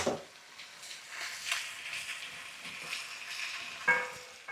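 Onions, mushrooms and carrots fry in a pan with a steady, soft sizzle throughout, a few stirring scrapes, and a brief clatter near the end.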